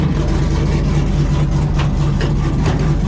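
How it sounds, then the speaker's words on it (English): A truck engine idles steadily just after a cold start with a deep, rough rumble throughout, loud and close, with no voices. "Pretty wicked cold start."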